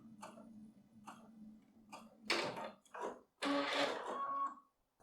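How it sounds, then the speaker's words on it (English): A sewing machine runs a few short back stitches to finish a seam on a lip welt pocket, several brief mechanical bursts separated by pauses, close and fairly quiet. "finish with a few back stitches"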